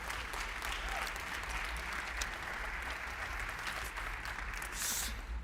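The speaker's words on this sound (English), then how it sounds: "please give them a round of applause and a welcome to this conversation" Steady audience applause at an AI fashion show panel during Mozilla Festival, a dense, continuous wash of clapping from a crowd filling the room at even loudness throughout.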